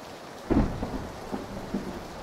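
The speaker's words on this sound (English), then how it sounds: "That's a nice ambient rain sound." Rain and thunder ambience in the PUBG video game: steady rain hiss with a heavy thunder rumble that swells early and rolls on in several fainter waves.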